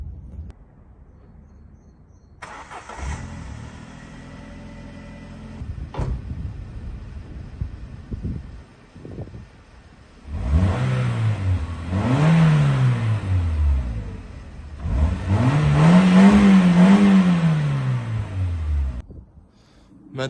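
A 200-euro Ford Fiesta's engine idles, then revs hard twice in long rising and falling bursts, loud and close, with quieter running between.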